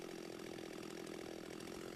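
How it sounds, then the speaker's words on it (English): Close and loud, a chainsaw engine drones at a constant pitch while the bar's top edge slices a curving saddle cut into wood, with no voices. "Slide the chainsaw over"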